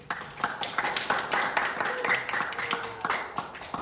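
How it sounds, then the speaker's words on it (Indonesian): An audience of young people at a youth politics discussion event claps together, with fairly steady, rhythmic hand claps mixed with crowd noise and some voices underneath. "tepuk tangan dulu dong teman-teman semuanya"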